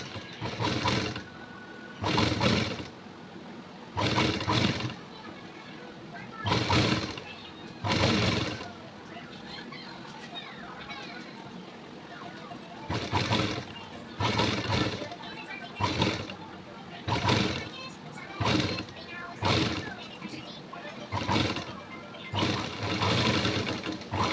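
Domestic sewing machine stitching piping onto a blouse neckline, running in repeated short bursts with pauses between, fairly close, while someone talks between and over the runs.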